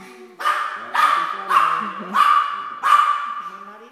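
A pet dog barks five times in a steady rhythm, loud and close, each bark sharp with a short trailing tail, in a home setting with faint background voices between barks.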